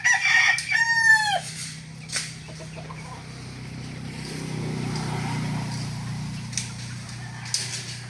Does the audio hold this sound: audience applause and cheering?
no